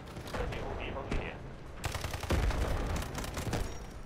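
Rapid gunfire in the mobile shooter Delta Force Hawk Ops, dense automatic bursts and cracks rattling almost continuously, loud and close, with a player talking over it.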